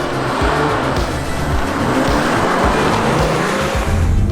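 A Toyota Supra and other sports cars launch hard on a racetrack, engines roaring loud and close with tire squeal and a steady, sustained howl of acceleration, with no talk.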